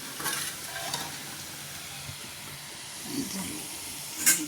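Urad vada batter fries in hot oil with a soft, continuous sizzle and hiss, with bursts of bubbling and occasional stirring and clinking nearby.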